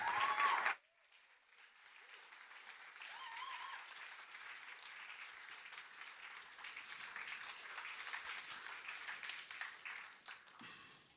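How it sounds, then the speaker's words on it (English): Applause from an audience builds after a brief loud sound at the start and continues steadily, moderately loud and distant, for about ten seconds. "Please, a big hand of applause for Philip Noble."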